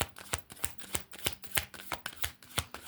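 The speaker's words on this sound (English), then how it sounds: "We'll go ahead and get a couple of shuffles." A deck of cards is shuffled close up, producing quick, evenly spaced rustling snaps in a steady rhythm.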